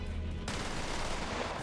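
Rapid burst of gunfire from a weapon in Borderlands 3, loud and dense, starting abruptly and continuing as a sustained barrage with no talk over it.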